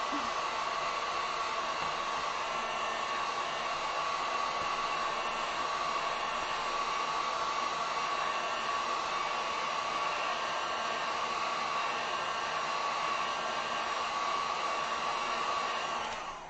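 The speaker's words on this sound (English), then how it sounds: "Let me throw the heat gun on this real quick because I have a feeling it's gonna need another coat" A heat gun blows over freshly painted acrylic on a spring chick and cracked egg sign, giving a steady, close, unbroken whooshing roar that holds an even tone from start to finish.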